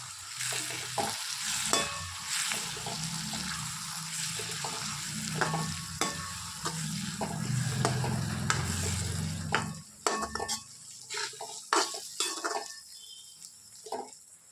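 Ginger, garlic and chili paste being stirred into a pan of corn chevdo, with soft sizzling, spoon scrapes and a few clinks of the pot, fairly quiet and without talk.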